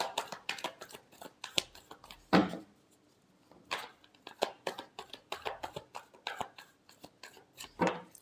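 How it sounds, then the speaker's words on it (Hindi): Tarot cards being shuffled by hand in a quiet room, a run of crisp riffling bursts and flicks with short pauses between them, close and fairly soft. "Last shuffle."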